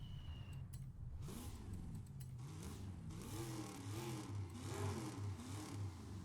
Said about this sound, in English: Let me turn the cams off so we can get a better sound of the induction noises for the turbos.